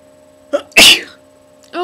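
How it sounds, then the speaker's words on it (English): A person gives a short breathy yawn-like sound and then a loud, sharp sneeze, followed at the end by a brief vocal sound. "Oh man, that was crazy, a yawn and a sneeze."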